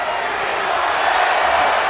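Steady roar of an arena crowd in the WWE 2K24 wrestling video game, a dense, even wash of noise without distinct cheers, continuous and fairly loud.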